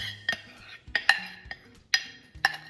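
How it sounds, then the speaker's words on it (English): A utensil stirs melted chocolate into creamed butter and sugar in a bowl, making several sharp clinks against the bowl at irregular intervals with soft scraping between them, close and quiet. "Now I'm just going to incorporate my melted chocolate."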